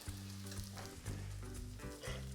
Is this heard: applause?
no